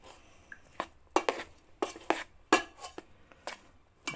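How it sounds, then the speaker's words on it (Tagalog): Spoon clinks and scrapes against a bowl while cornstarch is stirred for potato cheese balls, a dozen or so sharp close-up knocks in an irregular rhythm over quiet background. "Haluin natin ang ating cornstarch."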